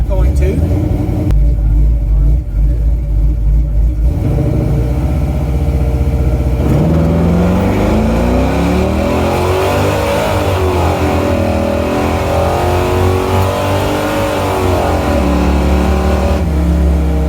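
A drag race car pulls away hard down the strip on its second run, its engine roaring loud and rising steadily for most of the stretch as talk carries on over it.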